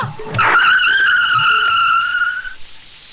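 A car skids hard with a loud, sustained tire squeal close by, rising sharply then holding for about two seconds before fading, with faint background voices in a Hindi TV drama scene of a near accident.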